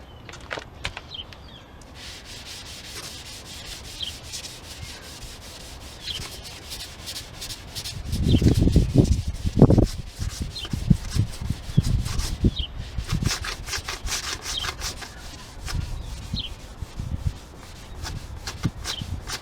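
Scotch-Brite pad scuffing primer on a car panel before painting, a steady raspy rubbing with louder scrubbing strokes in the middle section, close and alone without talk.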